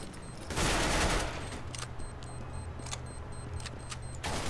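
Guns fire in Counter-Strike: Global Offensive, with a loud burst of shots followed by sharp, scattered reports and game noise.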